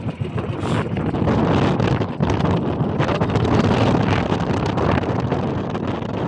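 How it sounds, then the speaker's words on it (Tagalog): Strong wind roars and buffets continuously against the microphone while fishing, loud and gusty throughout with no pause. "Lakas kasi ng hangin."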